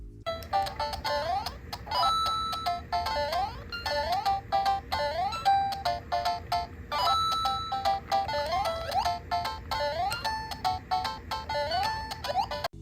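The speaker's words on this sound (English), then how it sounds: "I just want to let you listen to a little bit of the audio coming from this little device itself." Chiptune NES game music plays from the small built-in speaker of a cheap handheld NES emulator at about half volume, with bright melodic square-wave tones and steady rhythmic beeps running continuously and fairly loud, no talking.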